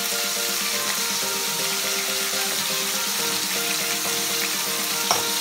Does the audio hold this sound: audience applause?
no